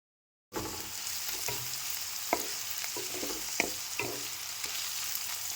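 Snake gourd fries with spices in a pan over a lowered gas flame, giving a soft steady sizzle with scattered light crackles and stirring taps, fairly quiet and close, with no voices.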